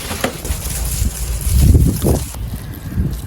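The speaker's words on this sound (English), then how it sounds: "It is windy today" Gusty wind buffets the microphone outdoors, a low rumbling roar that swells and fades over a few seconds with no voices.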